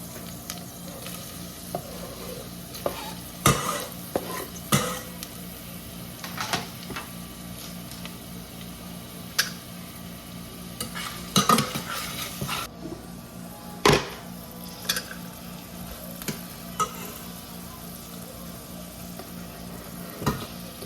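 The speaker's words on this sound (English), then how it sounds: "I'm going to let that green seasoning cook for like a minute or 2" Green seasoning sizzles steadily in a pan, a constant frying hiss broken by scattered sharp clinks and scrapes of a utensil stirring through it, with no talking.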